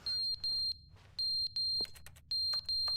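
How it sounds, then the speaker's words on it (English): A fire alarm in the video game The Stanley Parable beeps in repeated pairs of loud, piercing electronic tones with short gaps, over a low background hum, and a brief clatter partway through. "Okay, we got the fire alarm going now?"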